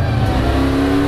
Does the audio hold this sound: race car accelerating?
yes